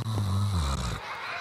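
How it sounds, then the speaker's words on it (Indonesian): One loud, deep, rasping snore, close and sustained for about a second before it cuts off into quiet. "Ngorok lagi."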